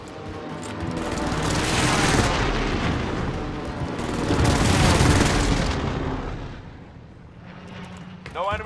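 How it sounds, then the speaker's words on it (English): Airstrike explosions in Call of Duty Warzone roll in as two long, heavy waves of booming blasts and rumble, loud and close, fading out before a few sharp pops at the end. "Airstrike target designated. This is Phoenix 3. Strike inbound."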